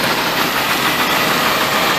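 A steady 1996–2000 Tahoe engine idles close by, a continuous low rumble with no change in pace and no talking.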